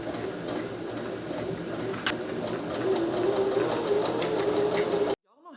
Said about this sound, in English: we're gonna do a little basting stitch